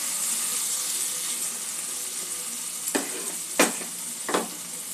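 Spices with ginger and garlic sizzle steadily in a pan for a green moong and potato curry, broken by three sharp spatula scrapes in the last two seconds.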